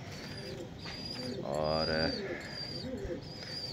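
Racing pigeons cooing softly at a moderate distance in warm midday conditions, a few low repeated coos, with a brief chirp and a single spoken word over them.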